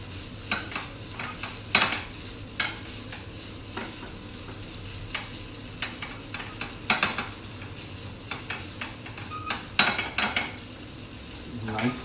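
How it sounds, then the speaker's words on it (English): Fried rice stirred and pressed in a hot pan with a steady sizzle, broken by frequent scraping and clinking spatula strokes against the metal, close and continuous. "So keep moving it. Press it if you need to."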